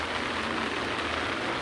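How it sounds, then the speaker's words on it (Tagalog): Steady rain pattering densely on city street surfaces in Valenzuela City, Philippines, an even hiss with no pauses throughout. "Ulan."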